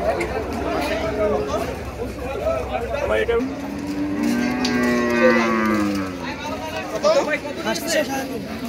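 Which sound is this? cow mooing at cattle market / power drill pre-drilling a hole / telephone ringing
cow mooing at cattle market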